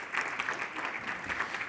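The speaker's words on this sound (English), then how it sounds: "please, let's welcome each one of the speakers with a big round of applause" Audience at an agri-food policy conference session claps to welcome the speakers, a full, even round of applause with individual claps popping through the steady patter.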